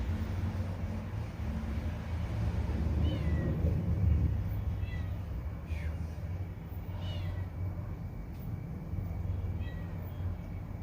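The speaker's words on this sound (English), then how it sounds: "Hear that little kitten is just like a pain in the ass." A little ranch kitten gives several thin, high meows, faint and intermittent, buried under a steady low rumble of background noise.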